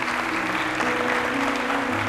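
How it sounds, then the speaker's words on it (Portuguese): A church congregation breaks into sustained applause, a dense, even roar of clapping filling the room, with no voices standing out. "Pode aplaudir mesmo."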